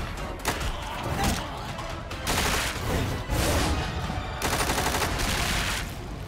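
TMP submachine gun fire in Resident Evil 4 Remake, several rapid bursts of automatic shots in quick succession, loud and close, separated by short pauses, with game sounds between.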